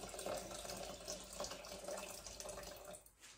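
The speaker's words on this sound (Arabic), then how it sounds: "نمشي نعمر الميه" Kitchen tap running water into a container, a steady hissing splash that goes on quietly close by and then stops near the end, with no voices.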